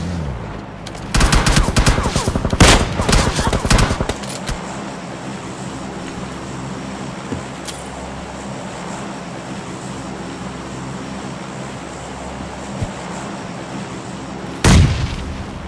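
Gunfire in PUBG Mobile Lite: a rapid, loud volley of shots for a few seconds, a quieter stretch of ambient noise with a faint isolated pop, then one more sharp shot near the end.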